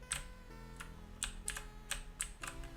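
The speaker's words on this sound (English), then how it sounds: "using this weird keyboard combination A, D, W and S" Computer keyboard keys are pressed in an irregular run of crisp clicks, close and fairly quiet, while coding a Commodore 64 game in 6502 assembly, with no talk.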